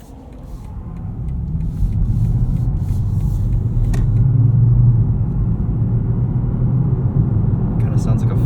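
A 2025 BMW M5 running in EV mode, giving a steady, loud low engine-like drone with road rumble from inside the cabin, swelling slightly midway and holding constant throughout.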